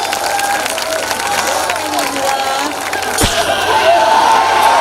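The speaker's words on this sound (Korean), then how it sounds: "박수 쳐주세요." An audience at a military entertainment concert applauds in a broad continuous wash of clapping, with voices mixed in and the applause swelling louder toward the end.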